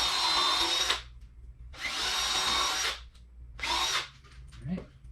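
Power drill drives screws into a wooden patio bench in three loud, close bursts of steady whirring, each about a second long, separated by short pauses with faint handling noise.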